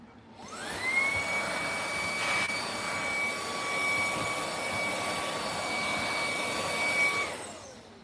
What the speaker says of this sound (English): do you mind the vacuum noise again?